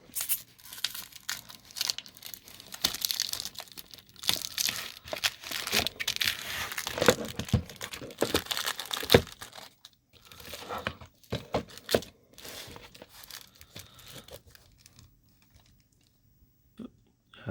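Plastic wrapper being peeled off a VHS cassette, a run of crinkling, tearing and rustling bursts that thin out into quieter handling toward the end.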